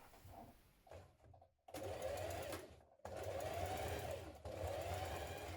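A sewing machine stitching a dart on trousers, its motor whirring in steady bursts of rapid stitching broken by short pauses, loud and close with no talk.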